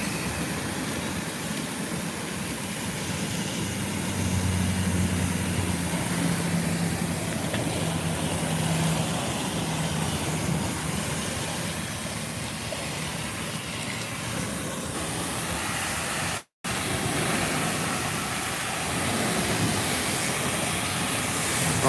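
A commercial pressure washer's engine runs steadily as it is given more RPM, a loud, continuous mechanical drone with hiss that swells slightly early on and cuts out for a split second near the end.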